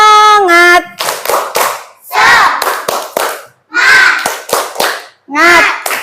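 A group of children at UPTSD Negeri Mulia Agung II perform a spirit clap: loud, close bursts of sharp hand claps in a quick rhythmic pattern, alternating with shouted chanting voices.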